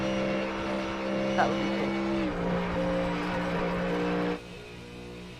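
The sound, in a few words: GTD race car engine passing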